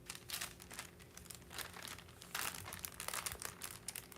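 Parchment paper laid over a dry leaf, with a book underneath, crinkles and crackles as it is pressed down: close, irregular rustling bursts that get denser partway through, with no talking.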